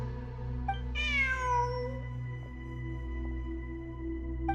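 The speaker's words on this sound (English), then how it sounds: "Look! A cat!" A cat in a video game lets out one clear, drawn-out meow over a steady electronic hum and soft chimes of game music, with no talk.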